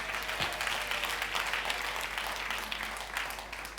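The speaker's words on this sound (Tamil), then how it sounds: "கைத்தட்டு" Soft clapping from a church congregation at a Sunday service, a brief steady patter of hands heard at a distance and fairly quiet.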